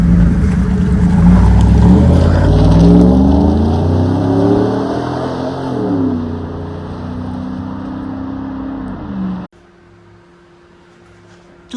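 Loud, close exhaust rumble from a 2009 Chevy Silverado's 5.3-liter V8 with side-exit pipes and factory converters, revving and surging in waves before cutting off abruptly, leaving near silence.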